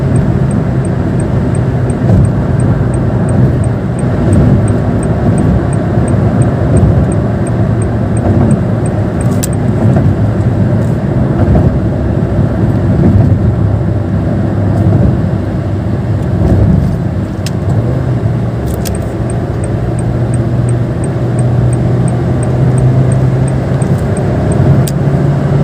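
A Honda Brio CBU 1.3 with a DCT gearbox drives the Bandung–Jakarta toll road, its engine droning steadily and held high, near and loud, with a constant rushing road noise underneath and no talking.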